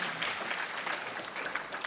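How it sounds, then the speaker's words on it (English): Audience applause at a charity literacy fundraiser, a steady wash of clapping from a crowd, moderately loud and continuous with no talk over it. "You can clap, that's all right, sure."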